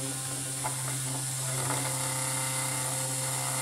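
A small USB desk fan starts up, giving a steady mechanical whir with faint rattling ticks from the moving parts, quiet and close with no talking.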